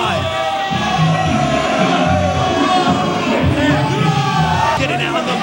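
A wrestling crowd at a 1999 independent show roars, yells and whoops continuously, a loud massed din of voices with shouts rising out of it, carrying on the whole time.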